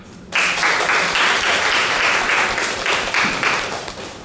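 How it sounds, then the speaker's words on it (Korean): Loud, dense applause from a lecture-hall audience during a systems programming class, starting abruptly after a brief quiet moment and holding steady for about four seconds. "박수."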